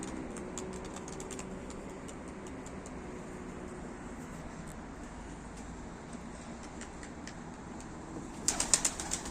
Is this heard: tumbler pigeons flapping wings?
yes